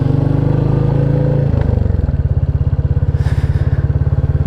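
A Classic 350 motorcycle is ridden, its single-cylinder engine thumping loud and close in a steady, even beat, with a brief shift in pitch partway through before the rhythmic putter resumes; no one speaks.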